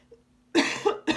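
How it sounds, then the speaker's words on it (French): Two short, sharp coughs close to the mic, following a brief quiet pause. "on a la communication qui ressort et je tousse"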